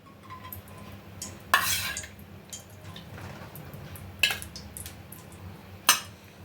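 About two spoonfuls of ghee go into a kadai on the stove, with a few sharp metallic clinks of spoon against the pan over a quiet background.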